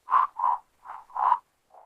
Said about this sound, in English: In season, female frogs make a unique sound to call males.